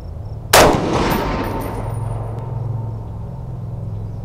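A single loud, close rifle shot from an Armalite Super Sass .308 fired at a target cracks out sharply, then a long rumbling echo rolls away and fades. No voices accompany it.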